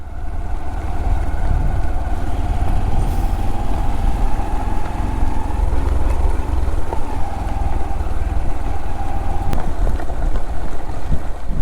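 Steady low wind rumble buffeting the microphone beside water on a fishing trail, continuous and fairly loud, with a faint engine-like drone underneath and no talking.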